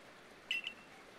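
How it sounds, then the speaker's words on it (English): The Arc Phone in the video game Pokemon Legends: Arceus gives two quick, high electronic beeps in close succession, faint and clean above a soft background hiss, with no talking. "Your arc phone is beeping."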